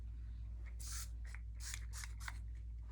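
Setting spray misted onto a face during makeup, heard as four or five short, airy hissing bursts spaced unevenly over a steady low hum in a quiet room.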